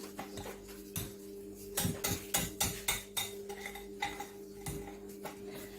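Hand whisk beating fruit cake batter in a bowl, quiet rhythmic clinks and scrapes in short bursts, close by over a steady low hum.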